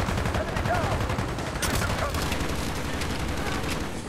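A gun in Call of Duty Black Ops fires continuously, a dense, loud stream of rapid shots with a louder burst near the middle, and talk runs partly beneath the shooting.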